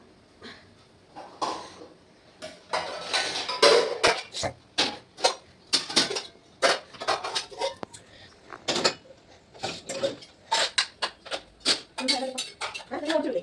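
Dishes and vessels are washed in a home kitchen while rice water heats on the stove, with a busy run of clinks, knocks and clatter in an irregular rhythm, close and moderately loud.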